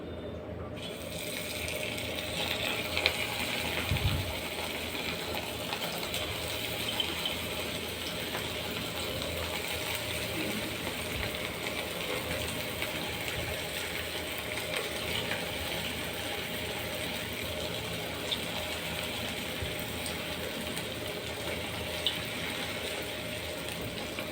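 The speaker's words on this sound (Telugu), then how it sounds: "వీటిని గోల్డెన్ బ్రౌన్ కలర్ వచ్చేదాకా వేయించుకోవాలండి మంచిగా వేయించుకోవాలండి" Small balls of punugulu fritter batter fry in hot oil with a continuous dense crackling sizzle, close and steady throughout with no talking.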